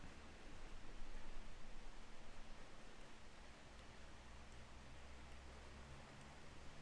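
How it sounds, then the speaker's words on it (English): Rain falls outside as a steady, soft, even hiss that continues throughout, faint and unbroken, with no voices. "Actually raining outside right now, so it's kind of relaxing."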